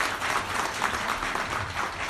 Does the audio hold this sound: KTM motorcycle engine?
no